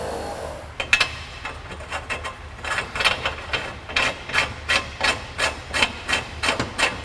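A thread tap is worked through the threads of an exhaust header for a 1990–2001 Acura Integra, giving a series of short regular rasping scrapes that quicken into an even rhythm, close and fairly loud.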